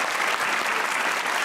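A studio audience at a comedy talk show claps in a brief, loud, steady burst of applause.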